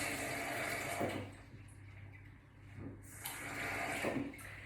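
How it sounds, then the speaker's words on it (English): Water is poured from a tap into a blender jug, a splashing gush that rises and dips in waves as the jug fills, close by. "fill it just under the max line to about there with water"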